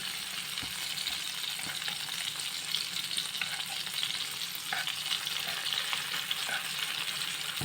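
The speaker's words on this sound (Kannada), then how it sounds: "ಮಸಾಲ ಒಂಚೂರು ಫ್ರೈ ಆಗೋದು ಮೀನದೊಟ್ಟಿಗೆ" Fish coated in masala fries in oil, giving a continuous, even sizzling hiss with faint crackles and occasional soft stirring clicks throughout, close and steady.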